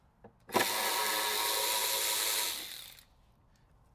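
A socket tool loosening a bolt on the engine of a 1996 Toyota 4Runner during cylinder head removal: one loud, steady whirring burst of about two seconds, then it tails off into quiet.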